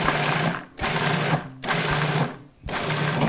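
A food processor pulses cranberries in short, loud whirring bursts, with three brief gaps where the motor stops before starting again.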